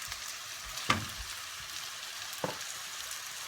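Minced meat frying in a pan for stuffed aubergines, a steady soft sizzle and crackle close by, with two brief louder spits or stirring clatters breaking through.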